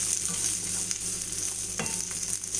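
Chopped ginger and garlic with mustard seeds sautéing in hot oil for a green chilli and dates pickle, giving a steady, close sizzle with faint stirring throughout.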